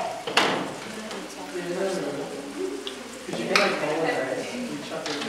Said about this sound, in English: So let that simmer